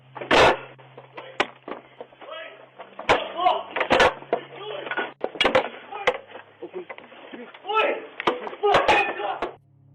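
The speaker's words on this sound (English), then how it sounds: "later hears a knock on his door" Sharp knocks land on a door, several loud separate raps scattered through a stretch of ongoing talk, with a low hum beneath.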